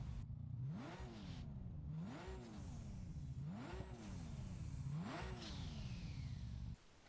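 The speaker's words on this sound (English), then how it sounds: "Take a listen to some revs." A car engine in the Test Drive Unlimited Solar Crown racing game revs four times in a steady rhythm, each rev rising and falling in pitch over a low idle, loud and close with no talking.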